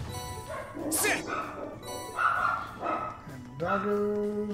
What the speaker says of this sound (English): And doggo's gotta start barking now.